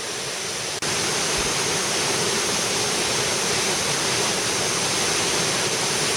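Waterfall beside a via ferrata climbing route in Kandersteg, a steady, loud, close broadband rush of falling water that continues unbroken throughout.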